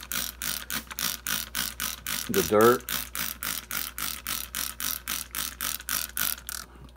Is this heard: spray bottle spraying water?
yes